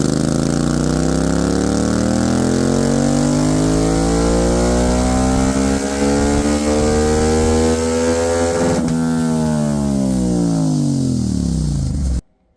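A 2025 Yamaha MT-07 motorcycle with Carbonsmith intake stacks revving on a dyno, engine pitch climbing steadily in one long sustained pull, loud and close, then cutting off abruptly.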